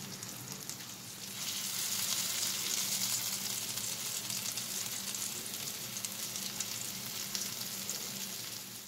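Potatoes frying in hot oil give a steady, soft sizzle that swells after the first second and holds evenly throughout, close and quiet with no talking.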